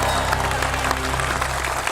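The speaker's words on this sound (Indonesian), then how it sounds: "Tepuk tangan lagi dong," A studio audience gives a steady, loud round of dense clapping that holds evenly for two seconds while a low musical tone sounds underneath.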